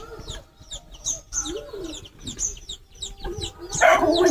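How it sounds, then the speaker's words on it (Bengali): Chickens in a Sundarbans village yard cluck and chirp in short repeated calls, fairly close, growing louder and busier toward the end, with no talking. "মুরগিগুলো যেই কথা বলছি সেই ডাকছে।"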